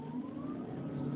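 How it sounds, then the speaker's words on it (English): An electric-conversion car's motor runs steadily while driving, giving a continuous hum with a faint rising whine throughout, fairly close and without speech. "the motor sounds like a little sports car"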